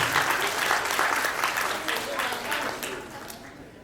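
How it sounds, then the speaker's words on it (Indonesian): Audience applause at the close of a plenary session of a professional association's pre-congress, a dense wash of clapping that holds steady for a few seconds before tapering off slightly. "Tepuk tangan Pak."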